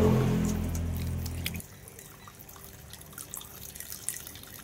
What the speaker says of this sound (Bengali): চালটা আগে একটু ভালো করে ধুয়ে নেব